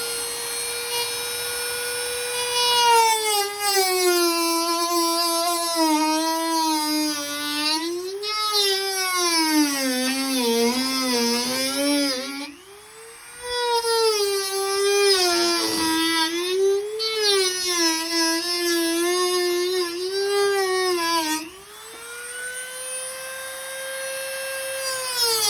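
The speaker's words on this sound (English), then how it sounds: "take your Dremel, turn it, and cut out another hole" A handheld Dremel rotary tool cuts a hole through deck or porch soffit with a loud, steady, high whine whose pitch wavers as the bit loads and eases, dipping briefly twice before running on.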